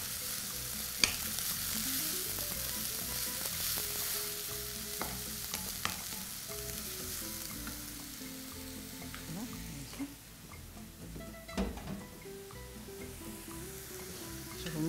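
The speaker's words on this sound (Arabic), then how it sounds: "تشويحه للبصله بس." Chopped onions sauté with a pinch of salt in a pan for a home-cooked Egyptian meal, a steady close sizzle with scraping stir strokes and occasional clinks of the spoon against the pan throughout, with no talking.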